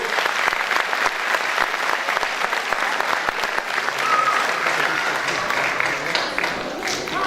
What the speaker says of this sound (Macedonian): Ве молам за него еден голем аплауз